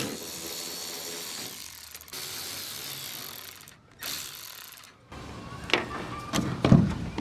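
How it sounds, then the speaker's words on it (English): Torx T25 screws are backed out of a 1994-2002 Dodge Ram tail light with steady, close mechanical ratcheting clicks, broken by short pauses and a few louder knocks toward the end. No one speaks. "This is a Torx bit. It's a T25. We'll just take those out."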